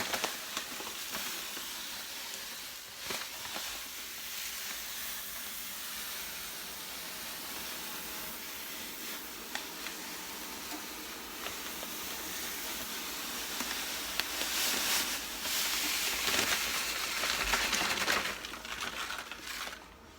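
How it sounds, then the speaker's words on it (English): Nine kilograms of pale malt pours into a brewing mash with rice hulls on a BrewTools B80pro system. A dense, steady granular rustle and hiss runs unbroken for about twenty seconds and swells louder toward the end. "So we're going to get 9 kilograms of pale malt into the mash."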